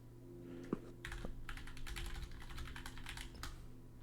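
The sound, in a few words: typing on a computer keyboard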